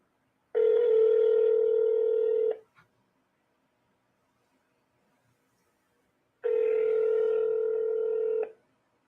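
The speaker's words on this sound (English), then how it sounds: "Transferring the call now." Two steady electronic phone tones of about two seconds each, separated by a silent gap of several seconds, sound while an automated call is being transferred, with no voices.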